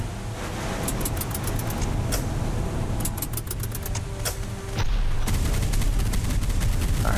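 Rapid machine-gun bursts come from a PT boat in the wargame Fortress Assault, rattling in quick strings over a steady engine rumble and loud noisy wash.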